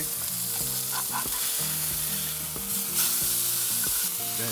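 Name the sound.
wagyu burger patty sizzling on grill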